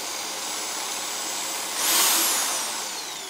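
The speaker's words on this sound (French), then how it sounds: "Donc vous mettez un rouleau de perceuse avec le variateur. Donc ça fait tourner à cette vitesse là à peu près." A drill fitted with a roller attachment and a speed controller spins steadily while car engine parts are being worked on, giving a loud, even whine that swells briefly before settling back, with no talk.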